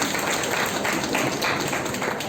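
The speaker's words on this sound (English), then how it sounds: "A round of applause for them." Audience applause for a quiz team at a school Shakespeare birth anniversary event: a steady, dense wash of clapping from many hands, held evenly for a couple of seconds with no voices over it.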